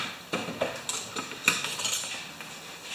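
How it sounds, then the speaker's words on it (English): An electrical knife scraping insulation off the conductors of a 14 gauge cord, making a series of light, close scratching and clicking strokes at an uneven rhythm, with no speech. "I'm just going to scrape these away from my, just to expose a little bit more of the conductor."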